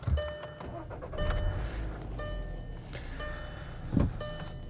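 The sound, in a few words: 2013 Volkswagen Jetta 2.0 engine starting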